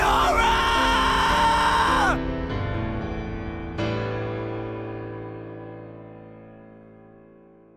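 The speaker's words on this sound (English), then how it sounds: "they actually recorded like a bunch of distinct Fiora screams" Fiora, a character in the video game Xenoblade Chronicles, gives a long, loud, high scream that breaks off, followed by tonal ringing sounds that fade slowly.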